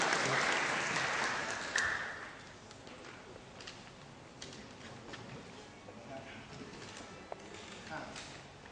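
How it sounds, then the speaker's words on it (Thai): A burst of applause for a Muay Thai Chaiya teacher at a performance, loud at first and dying away within about two seconds, leaving quieter room sound and talking. "ปรบมือให้คุณครูสักครั้งนะครับ"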